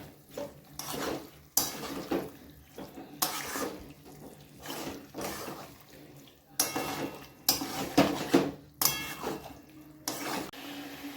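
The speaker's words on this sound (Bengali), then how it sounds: "মাংসের সাথে যে গ্রেভিটা আমাদের রেডি হয়েছে তার সাথে ভালো করে একদম এপিট ওপিট করে মাখিয়ে দিতে হবে।" Meat is stirred and turned in a pot of gravy with a utensil, in repeated scraping, clattering bursts separated by brief pauses, close and moderately loud.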